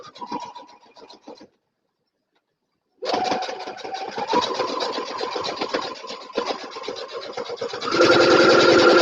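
A sewing machine stitching nearby: a short run, a pause of near silence, then a long steady whirring run that grows louder toward the end as it back stitches.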